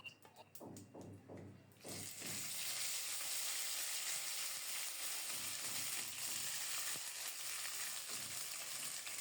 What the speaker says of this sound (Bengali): ফোড়নে দেব শুকনো মরিচ, গোটা জিরা আর তেজপাতা।